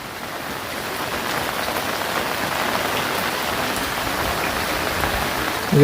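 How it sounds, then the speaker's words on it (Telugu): Steady rain pattering on a surface, a continuous dense hiss of drops with no voices, holding even throughout. "ఇక బాగానే వర్షం వస్తుంది"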